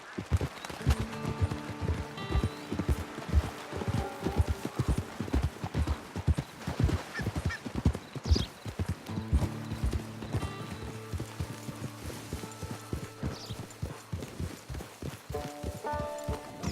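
Horse hooves clip-clop in steady, rapid rhythm while riding in Red Dead Redemption 2 on PS4 Pro, loud and close, with game music and ambient layers underneath.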